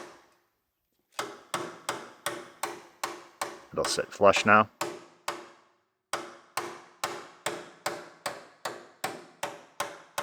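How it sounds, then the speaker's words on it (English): Hammer blows on a car frame rail during a 2015 Mustang coupe conversion to a 1965 convertible, a steady series of sharp metallic strikes in two runs, broken by a brief spoken remark in the middle. "We'll hammer over our frame rail after we took that little triangle out."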